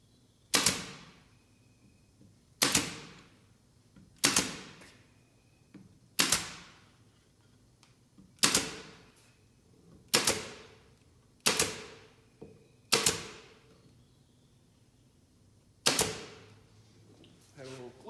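A nail gun fires nails into shelf edge banding, about ten sharp loud pops spaced irregularly a second or two apart, each with a short decay, in a quiet workshop.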